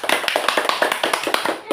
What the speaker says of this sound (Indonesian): tepuk tangan kepada narasumber kita pada hari ini